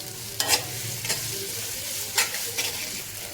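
Onion and ginger-garlic paste sauté in a pan for dry Maharashtrian chicken, heard as a soft, continuous sizzle broken by a few spoon scrapes and stirs, with no voices.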